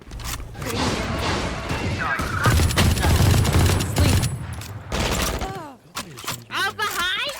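Loud bursts of automatic gunfire in the video game Valorant, dense rattling shots with crashing impacts, then breaking into short separate bursts as a player talks over the action.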